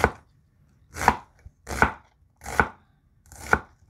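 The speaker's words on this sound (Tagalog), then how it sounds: "At saka, maghihiwa na tayo ng bawang. At saka, sibuyas." A knife chops garlic and onion against a board, five sharp separate strokes about a second apart, close and clear with quiet gaps between.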